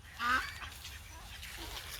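A domestic guinea fowl on a village homestead gives one short, harsh call, followed by quiet outdoor ambience.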